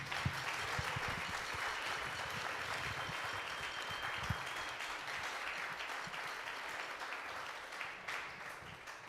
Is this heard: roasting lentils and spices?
no